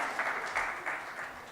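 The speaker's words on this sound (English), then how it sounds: "we can clap for the jury." An awards-ceremony audience applauds the jury, a steady wash of many hands clapping throughout, fairly loud and unbroken by speech.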